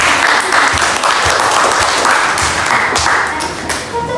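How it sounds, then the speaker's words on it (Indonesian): An audience of students claps for a presenting group in a classroom discussion. The applause is loud, dense and close, and it runs steadily before tapering slightly at the end. "Tepuk tangan untuk kelompok 2."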